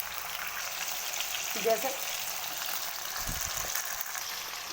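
Chicken pieces fry with salt in a pan, a steady broad sizzle running throughout at moderate level, with a brief utensil clatter midway and a short spoken word over it.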